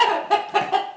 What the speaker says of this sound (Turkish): Biri zaten tavuk, biri horoz.